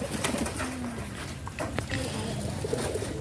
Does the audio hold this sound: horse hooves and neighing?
no